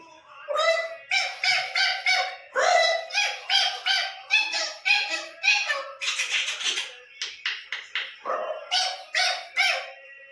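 A voice imitates a myna's chattering call, a long run of quick, harsh, repeated squawks and chirps, close and loud, with short pauses between bursts.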